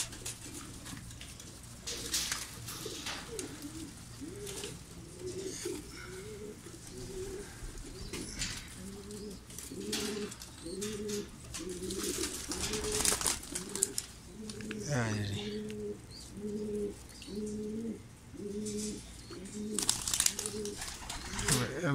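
Pigeons and pigeon chicks coo in a repeated rhythmic series of soft throaty calls, close by, with faint chirps and someone talking over them.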